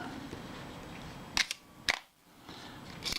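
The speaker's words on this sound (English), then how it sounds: "I can hear that shutter working correctly" A Mamiya Family SLR camera, just cocked after a shutter service, fires its shutter: two sharp mechanical clacks about half a second apart, each with a short rattling follow-up, close and clear over quiet room noise.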